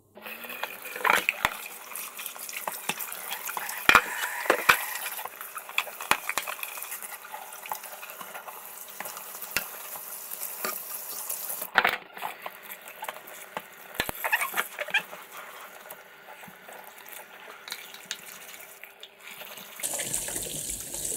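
Water from a tap runs steadily over a removable part of a Magimix 18083 F centrifugal juicer in a sink, with splashing and light clatter as it is rinsed, continuing alone for about twenty seconds.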